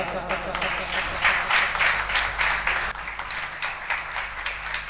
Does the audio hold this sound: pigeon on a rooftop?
no